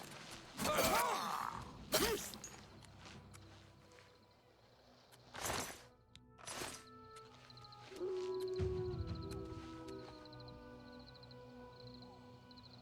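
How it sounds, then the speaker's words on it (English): Wolf howls in a video game mixing Breath of the Wild and Oblivion, several long tonal calls rising and falling over ambient game sound, with distinct swells spaced across the stretch and a sustained drawn-out howl near the end. "That was a very nostalgic wolf howl."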